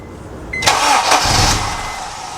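A Honda Civic Type R engine cranks in a loud burst close by but fails to catch, a churning starter sound that fades out without settling into an idle.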